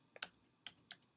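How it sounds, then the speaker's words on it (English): Keys on a computer keyboard click quietly in a brief, irregular burst of about four taps, close and alone with no talk. "you'll notice that as I'm typing all this stuff"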